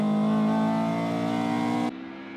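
Toyota AE86 with a 180 hp engine and six-speed gearbox revving hard on an attack run, a loud, sustained, close engine howl that cuts off abruptly near the end.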